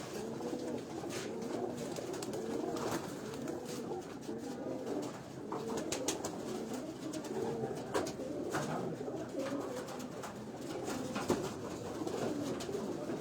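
Pigeons of a fancier's breed coo steadily from a sunny rooftop in Punjab, a dense overlapping chorus of soft, rolling calls close by.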